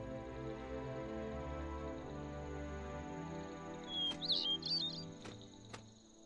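Over a low, droning game music bed in LEGO The Hobbit, a small bird lets out a brief flurry of high chirps near the end, followed by a couple of sharp ticks.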